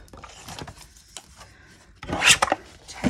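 Paper flap on a handmade faux window envelope card being trimmed to about half an inch, with a few soft scraping cuts early on, then a louder burst of crisp rasping snips near the end.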